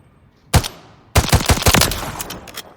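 A G36 rifle with bipod and 20-round magazine fires in Call of Duty Modern Warfare III: one loud close shot, a brief pause, then a fast rapid-fire burst of sharp cracks with no talking.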